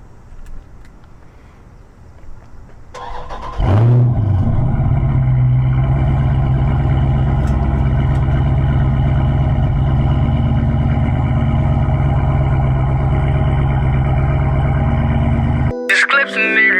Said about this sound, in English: And here go a cold start.